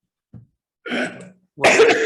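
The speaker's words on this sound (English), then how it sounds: "I think I coughed a little bit before I muted it" A tiny throat sound, then two separate bursts of coughing, the last one louder and rougher, with no talking.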